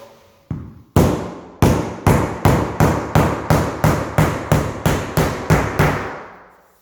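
Clip-together PVC floor tile tapped into place, a run of about a dozen sharp, evenly spaced knocks, close and loud, after a couple of softer opening taps, with no speech.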